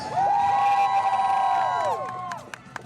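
Crowd at a jousting show cheering and shouting together in a loud sustained roar with children's voices, tapering off into a few scattered claps.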